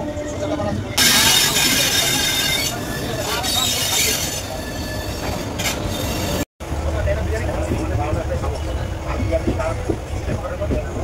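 Passenger train running on the way to Puri, a steady rumbling roll of wheels on rails with clattering and a brief squeal, continuous and close from inside the carriage.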